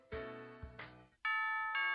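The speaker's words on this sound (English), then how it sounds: "That's a school bell." A chiming school bell from the Pokémon Sun video game plays a short electronic melody of sustained tones, clear and alone with no talk over it.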